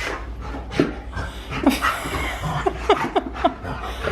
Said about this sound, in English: Yes, you're panting.